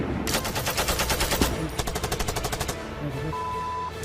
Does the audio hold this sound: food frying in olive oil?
no